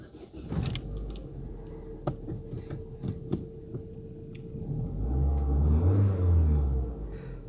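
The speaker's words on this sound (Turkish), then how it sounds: "Şimdi arabamızı çalıştırıyoruz." Opel Astra G engine turns over and catches after some faint clicks and taps, with a low rumbling start building near the end of the clip, fairly quiet and heard alone.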